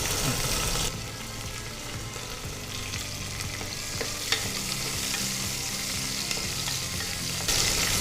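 Onions fry in a hot pan for Bangalore-style chicken biryani, giving a loud, dense, steady sizzle that softens slightly after the first second and swells again near the end.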